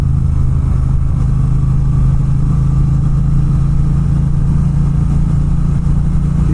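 Exhaust of a Triumph Bonneville T120 Gold Line motorcycle: a steady, deep, loud engine drone held at an even pitch throughout, close by and with no talking over it.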